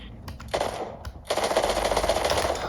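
Legendary weapon in Fortnite fires in short, rapid bursts, a quick spray of sharp shots, a brief pause, then a longer rattling volley, with game sounds underneath.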